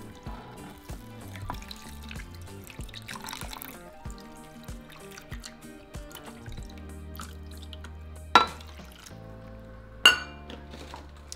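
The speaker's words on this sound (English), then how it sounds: "now we're going to add 2 cups of water" Two cups of water are poured over seasoned meat for burritos in a pan, giving soft trickling and dripping with a couple of sharp clinks near the end, fairly quiet and without talk.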